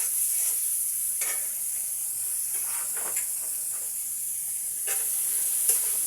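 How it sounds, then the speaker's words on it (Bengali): Cauliflower florets fry in oil in small batches, giving a faint, even sizzle and hiss with a few light stirring scrapes scattered through. "অল্প অল্প করে ভেজে নিয়ে তুলে রাখবো"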